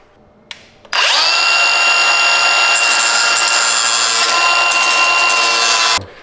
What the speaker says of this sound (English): So first off, we're gonna grind that out.